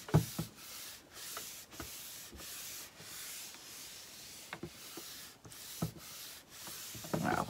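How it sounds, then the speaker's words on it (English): Hand rubbing and sanding of a salvaged item being refurbished, heard as a series of short, close scraping strokes at an uneven rhythm, with quiet pauses between them. "Just keep kind of rubbing it. Make sure it's down."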